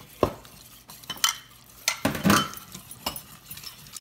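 A spoon works thick cornbread batter in a bowl, making several separate scraping strokes and light clinks against the side, close and fairly quiet with pauses between strokes.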